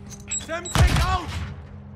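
A Semtex grenade in the 2022 Call of Duty MW2 video game, during a Kill Confirmed match. A short voice-like tone comes first, then a sudden heavy thud bursts out and rings off in a quick-fading metallic tail.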